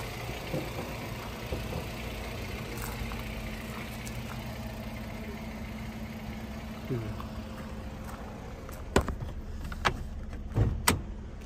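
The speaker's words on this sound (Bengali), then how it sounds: "Engine sound smooth sound." A 2012 Hyundai Accent engine idles smoothly, a steady low hum close by, with a voice talking at times and a few sharp clicks and knocks near the end.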